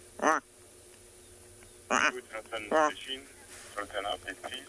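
A man imitates the harsh, rasping call of a lilac-breasted roller on an afternoon safari game drive, several short croaking bursts close to the microphone, interleaved with crackly squawks from a game drive radio in the background.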